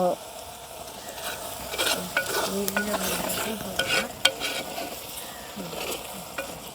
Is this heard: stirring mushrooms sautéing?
yes